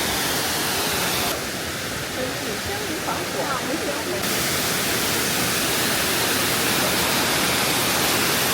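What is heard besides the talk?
waterfall at Jiuzhai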